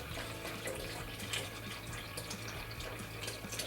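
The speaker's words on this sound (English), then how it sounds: "the pump kicks on, and the water will start recirculating now" Water recirculates through a conical fermenter's cooling pump, a steady splashing, trickling flow like a running tap that continues evenly at moderate level with no voices.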